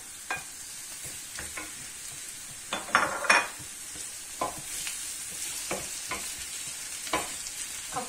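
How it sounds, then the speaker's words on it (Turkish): Meat sautés with roasted peppers in a pan, a steady soft sizzle broken by occasional sharp clinks and stirring scrapes of a utensil. "Etimin birazcık kavrulmasını bekleyeceğim."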